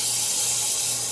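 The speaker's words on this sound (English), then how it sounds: "Just because I like spraying brake clean on everything." Brake cleaner sprayed from an aerosol can on a Smart 451 during an oil change, a steady close hiss that lasts throughout without pause.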